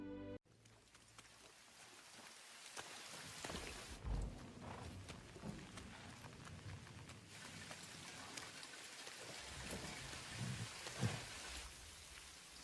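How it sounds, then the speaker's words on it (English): Steady heavy rain pours down through a film scene with Bilbo, Gandalf and dwarves, an unbroken wash of falling water with faint clopping hooves mixed in. "they're getting hit with all this rain"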